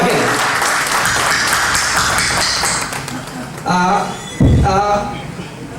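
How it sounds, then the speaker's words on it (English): A gathering at a function applauds the chief guest with dense clapping for a few seconds, then the sound turns into scattered taps and thumps as it dies down. "I request the gathering to have a big round of applause for him."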